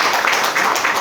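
Brief applause from a panel forum audience, a steady wash of hand clapping filling the whole moment, close and fairly loud with no talk over it.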